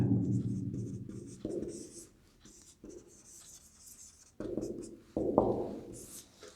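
Chalk or marker writing on a board during a chemistry nomenclature lesson, in short scratchy bursts with pauses between strokes, close and clear.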